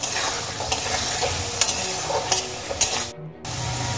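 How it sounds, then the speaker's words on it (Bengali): Potatoes frying until browned, a close, busy sizzle with sharp periodic scrapes and knocks from stirring, cutting out briefly near the end before the hiss resumes; nobody speaks. "এবার আমি আলুগুলোকে লাল করে ভেজে নেব।"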